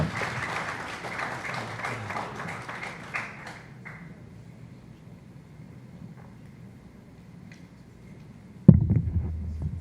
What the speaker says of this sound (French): faire une montagne d'applaudissements pour Schulz Semsi Kazir